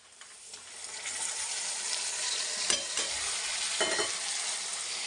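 Chopped tomatoes tipped into onions frying in oil for a sweet-and-sour tomato chutney, a rising sizzle joined by several distinct spoon scrapes and stirs against the pan, close and steady without talk.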